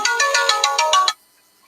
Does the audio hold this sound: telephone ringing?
yes